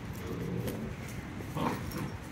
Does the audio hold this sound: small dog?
yes